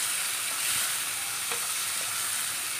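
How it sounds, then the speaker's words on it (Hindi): Onion and chopped tomato fry in a pan with a steady, close sizzle and a few faint stirring scrapes, with no voices. "तो अब हम इसमें ऐड करेंगे एक कटा हुआ टमाटर, और इस दोनों को फिर से भून लेंगे।"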